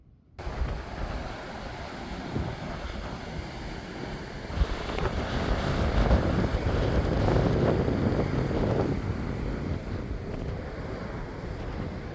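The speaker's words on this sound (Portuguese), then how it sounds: "Hoje já tá mais vento que ontem, né?" Strong wind blows on a beach, a continuous roar buffeting the microphone with low rumbling gusts that swell in the middle, with surf-like wash underneath.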